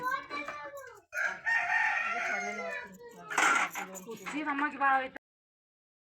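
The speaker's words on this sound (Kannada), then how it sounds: "ಕೋಳಿ" A rooster crows at home several times in long, strained calls close by, with clucking between them before the sound cuts off abruptly.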